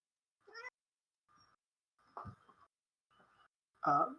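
A pet cat meows near the camera indoors, giving several separate short meows, some quiet and some loud, with the last one the loudest and closest.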